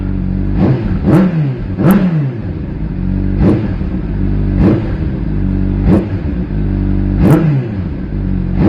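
A 2018 Honda CBR600RR motorcycle with its catalytic converter removed is revved hard up close again and again, about six sharp loud blips rising above a steady idling rumble.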